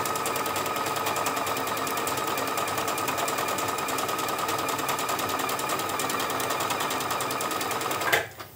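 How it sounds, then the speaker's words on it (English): A sewing machine stitches rows of decorative stitches on fabric for a cloth bag, a loud fast mechanical rattle running steadily for several seconds before it stops abruptly, with no talking. "So I'm continuing with this stitch for 2 rows."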